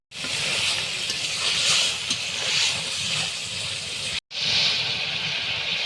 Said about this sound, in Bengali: এখন হচ্ছে মাংসটা কষাই নিব।